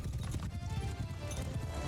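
Horses gallop across a battlefield in Mount & Blade II: Bannerlord, a dense, fast drumming of hooves that stays loud and steady throughout with a faint whinny in the mix.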